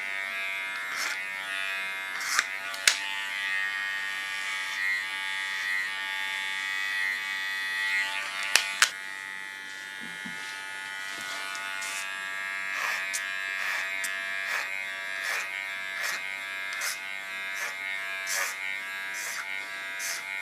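Electric hair clipper buzzing steadily while cutting an ultra-short pixie hairstyle, a close, continuous hum with brief clicks and small shifts in tone as the blades move through the hair.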